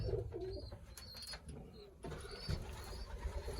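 Breeding pigeons in a loft give soft, low cooing calls, fairly faint, with a faint engine rumble in the background.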